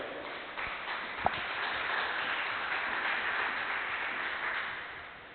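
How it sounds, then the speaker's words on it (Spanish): A Spanish-speaking church congregation applauds in praise of the Lord, giving a muffled, steady wash of clapping that rises after a moment, holds at a moderate level with one sharp knock early on, then fades toward the end. "Dele el aplauso al Señor."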